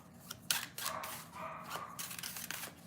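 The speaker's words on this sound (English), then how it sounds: "Sorry about the dog barking" A dog barks several times in short bursts close by in a room, with scattered rustling in between and no one talking.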